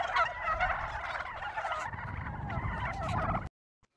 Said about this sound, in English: They're clever, those turkeys.